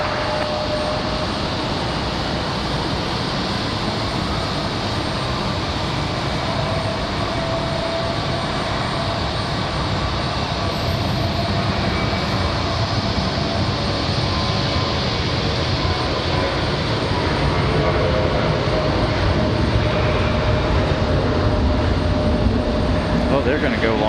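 An airliner departing Raleigh-Durham for Dallas on a windy day gives a steady, loud jet roar that holds for the full stretch and swells slightly toward the end.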